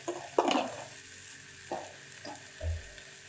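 Red chili powder and spices being stirred in a frying pan for a samosa filling, with a low background sizzle, a sharp scrape near the start and a few softer scraping strokes that follow.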